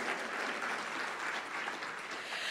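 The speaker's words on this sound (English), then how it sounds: "you can clap for bipartisanship." Conference audience at a luncheon address applauds warmly: a continuous, dense roar of many hands clapping at once, sustained and even throughout.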